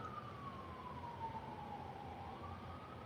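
An emergency vehicle siren wails in the distance, one slow falling and rising sweep, faint against a steady background hiss with no one speaking.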